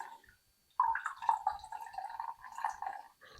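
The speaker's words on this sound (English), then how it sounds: "I am straining with the little strainer." Homemade bone broth is poured through a small strainer, with soft irregular dripping and trickling liquid that starts after a brief silence and continues in gentle spurts, close and quiet.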